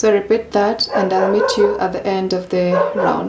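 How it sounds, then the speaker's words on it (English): A dog barks and yips repeatedly in the background of a home crochet tutorial, the short barks coming in bursts under steady close talk from a woman. "Sorry about the dog barking in the background."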